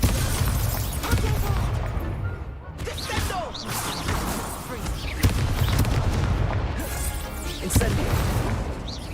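Confringo blasting spells in Hogwarts Legacy go off as a string of heavy booming blasts and crashes with whooshes, loud and close, recurring several times over rumbling game audio.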